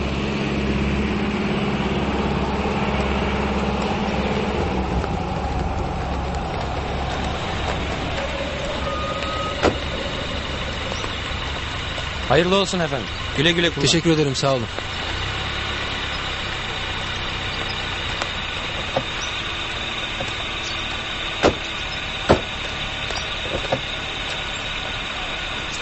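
Tractors arrive at a rural spot, a steady engine idle and rumble running throughout with a brief burst of squeals and clatter midway and a few sharp clicks later, as people exchange short greetings and thanks over the noise.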